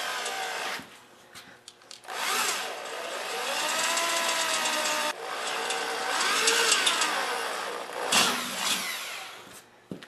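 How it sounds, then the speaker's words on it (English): A 5/32 drill bit bores holes in thin sheet metal on a welding cart, a loud continuous whining, grinding drone whose pitch rises and falls with brief pauses between holes. "What I'm using to drill the holes is a 532 drill bit"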